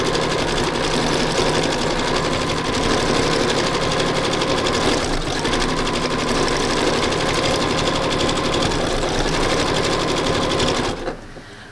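A sewing machine stitches fabric with invisible thread for thread painting, making a loud, steady, rapid mechanical whir close by that runs unbroken until it stops just before the end.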